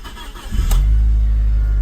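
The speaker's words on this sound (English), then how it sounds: "Start the engine." A Mitsubishi Lancer EVO 4 with about 149,800 km cranks briefly and fires up, settling into a loud, steady idle close by.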